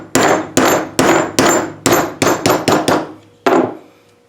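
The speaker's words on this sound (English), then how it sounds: "going to go through a nickel that's hardened" A punch driving a plug out of a hardened nickel with a 1/2 inch punch and die: nine sharp, loud metallic strikes in an uneven rhythm, each ringing briefly, with a short pause before the last.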